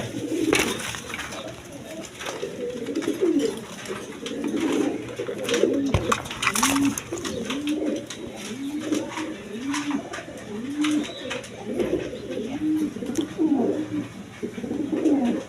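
A pair of Bombay pigeons coo close by in a steady run of repeated throaty rolling calls, with a voice talking at times over them and scattered clicks and rustles.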